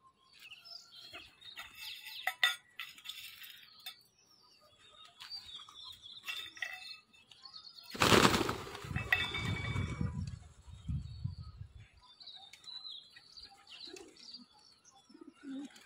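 White and grey pigeons coo softly in the distance, with a sudden loud flutter of flapping wings midway, then quieter cooing and rustling.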